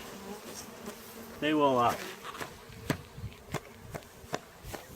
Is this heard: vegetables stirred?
no